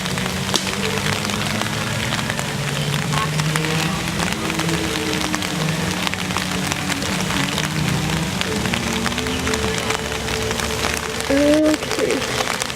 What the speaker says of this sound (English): It's raining to make it even better.